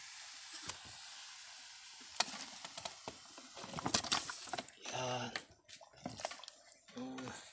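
Coconut milk boils in a cooking pot with snails and water spinach, making a soft, steady bubbling and spattering at low volume. A person talks briefly over it near the end.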